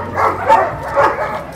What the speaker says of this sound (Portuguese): os galera já soltaram seus cachorros ferozes